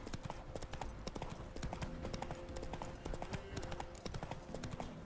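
Roach, Geralt's horse in The Witcher 3: Wild Hunt, clip-clops along in a steady hoofbeat rhythm that stays close and clear over a bed of in-game music, with no talk.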